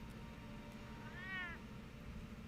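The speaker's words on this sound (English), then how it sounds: "the cat that hates you" A single short meow from a cat in a Batman Telltale video game rises briefly over a low steady background hum, faint and isolated.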